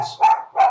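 Two short bursts of dog barking, close and fairly loud, with a brief quieter pause between them and no talk over them.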